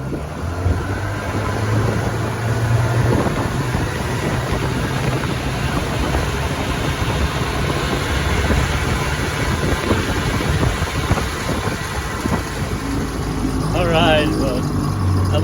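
A 1960 Johnson 10 horsepower vintage outboard motor runs out on a lake, a steady, continuous engine drone with water and wind noise throughout, loud and close.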